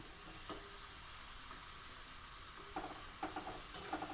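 Thin bitter gourd slices frying in hot oil over a medium flame give a steady, faint sizzle throughout, with a few soft stirring taps near the end and no talking.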